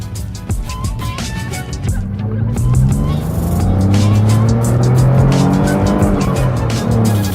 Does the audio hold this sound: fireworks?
no